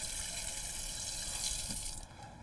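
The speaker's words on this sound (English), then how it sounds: "Now I have to wash my hands again." Hands are washed under a running tap, a steady splashing rush of water at close range that thins out slightly at the end, with no voices.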